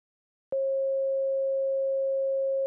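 A pure sine test tone shifted up 100 Hz to 540 Hz with a frequency shifter in Ableton, starting abruptly after a brief silence and holding as one steady, unwavering note.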